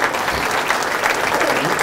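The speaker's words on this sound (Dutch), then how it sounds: "U mag klappen hoor voor deze meneer." At a 2014 royal honours ceremony in Landerd, where an Order of Orange-Nassau decoration is pinned on, a seated audience breaks into dense, continuous applause, full and close, with no voices over it.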